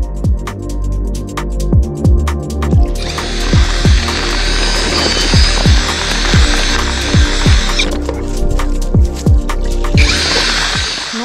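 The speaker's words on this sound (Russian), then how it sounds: "Это мой супер шуруповерт Redwerk" A Redwerk cordless drill mixing carp-fishing groundbait of peas and corn on a riverbank whirs steadily in two long runs, the second shorter, with a rhythmic clicking and rattling running underneath.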